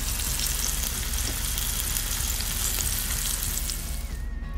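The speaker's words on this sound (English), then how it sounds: "after your oil is hot, you can go ahead and add the seitan" Pieces of homemade seitan sizzle and crackle steadily in hot oil in a pan, a dense, continuous frying hiss that stays loud and close throughout with no voices.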